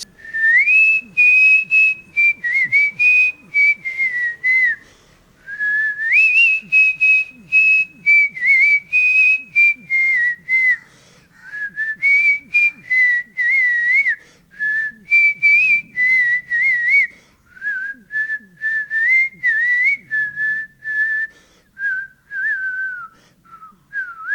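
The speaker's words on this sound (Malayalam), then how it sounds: "ചേട്ടൻ നന്നായിട്ട് പാട്ട് പാടും ചൂളം അടിച്ച് പാട്ട് പാടും" A man whistles a melodic song, a steady, clear tune in continuous phrases with brief pauses for breath, loud and close, with no talking over it.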